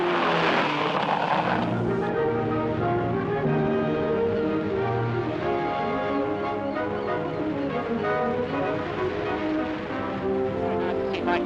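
Racing cars of 1951, Riley and MG, run at Gamston airfield: a burst of noisy rushing gives way to strong, sustained engine drones from several cars, loud and near, their tones overlapping as they pass.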